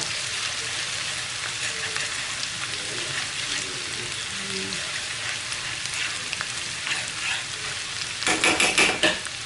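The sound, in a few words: crab and mussels frying with garlic, onion and ginger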